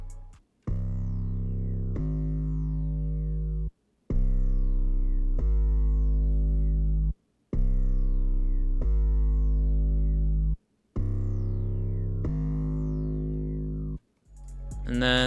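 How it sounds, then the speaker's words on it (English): A Serum synth bass preset, Bass 8 Ball from the X Serum Bank, plays long sustained root notes in four phrases of two notes each, with short gaps between, heavy and up front, no talking. "It's called Bass 8 Ball. It's from the X Serum Bank."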